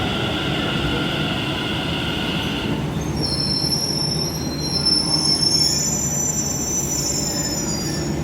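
A Delhi Metro train rumbles steadily, its wheels squealing in high, sustained tones as it moves along the track. No voices.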